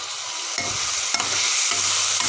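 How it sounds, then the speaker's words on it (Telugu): Onion slices frying in hot oil with salt give a steady, close sizzle, broken by a few scraping stirs of a spoon against the pan, with no voices. "సాల్ట్ వేసుకుంటే తొందరగా ఉల్లిపాయ వేగుతుంది"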